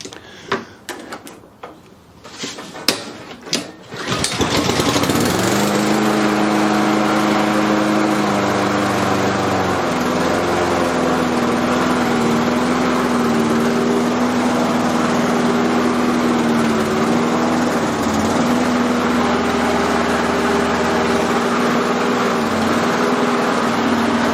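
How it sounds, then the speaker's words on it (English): A repaired self-propelled lawn mower's small petrol engine starts after a few rough pulls and runs steadily, loud and close, with a constant droning hum that shifts pitch slightly as it settles. "So all back together, we'll just give it a test fire."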